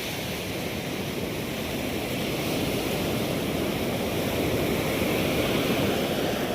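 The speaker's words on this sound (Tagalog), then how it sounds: "Laki ng alon." Steady, heavy roar of surf with big waves crashing continuously, a loud broad wash of water and wind noise with no voices.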